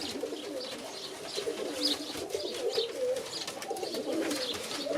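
Zamość pigeons coo softly and repeatedly, low throaty calls overlapping in a loose rhythm against faint background hiss, fairly close and moderately quiet.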